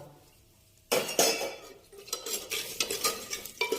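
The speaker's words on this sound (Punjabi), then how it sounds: "ਇਹਨੂੰ ਆਪਾਂ ਹਿਲਾ ਲੈਂਦੇ ਆ ਥੋੜਾ ਜਿਹਾ" A spoon scrapes and clinks against a pot while stirring spices with asafoetida, bay leaf, cinnamon and curry leaves, starting abruptly after a quiet moment, then several close, uneven scraping strokes with light metallic knocks.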